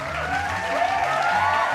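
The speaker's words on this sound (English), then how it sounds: "Hold the applause." Applause from an audience at an award presentation, a steady wash of many hands clapping at moderate loudness, with a few voices mixed into the crowd noise.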